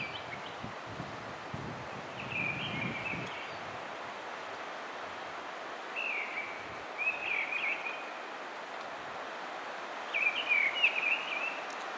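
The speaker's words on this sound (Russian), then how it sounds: "Поет дрозд деряба." A mistle thrush sings in northern Karelian countryside, three short fluting phrases spaced several seconds apart, distant and faint over steady wind noise and rustling.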